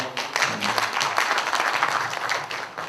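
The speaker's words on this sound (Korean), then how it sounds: "의견 없으시면 박수로 승인해 주시겠습니까?" A meeting audience at a union's regular delegates' assembly breaks into sustained applause, many hands clapping together in a dense, fairly loud wash that lasts several seconds.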